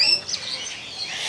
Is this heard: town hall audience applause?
no